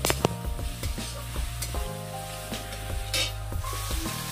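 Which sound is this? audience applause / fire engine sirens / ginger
ginger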